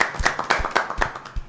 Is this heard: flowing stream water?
no